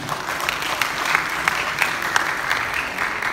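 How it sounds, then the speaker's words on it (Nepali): At an awards ceremony a crowd applauds an honoured journalist with a loud, continuous round of clapping. Sharper individual claps stand out now and then against the steady wash. "श्रीधर पौडेलका लागि एकचोटि जोरदार ताली"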